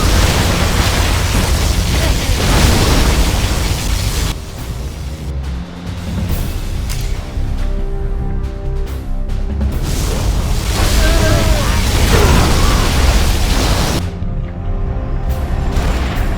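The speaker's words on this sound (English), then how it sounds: "Particle cannon activated." Particle cannon strikes in the real-time strategy game Command and Conquer Generals Zero Hour: loud, sustained rolling booms and crackling blasts layered over dense battle noise, with short gaps between surges.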